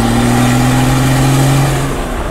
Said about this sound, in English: Of course you've got no bonnet, so I'm just looking at BMW straight six running on veg oil